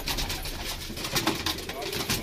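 A Teddy pigeon, frightened in a breeding setup, gives soft, low coos nearby amid a noisy background, with people talking faintly around it.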